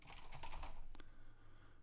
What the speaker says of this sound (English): she's typing about something about recruitment